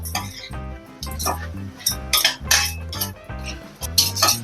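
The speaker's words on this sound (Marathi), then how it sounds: "आणि याला एक दोन मिनिटं परतून घेऊया" Fresh cashew nut vegetable being sautéed in a pan, Konkan style, with repeated metal scraping and clinking of a spatula against the pan, loud and close over a steady sizzle, while music plays underneath.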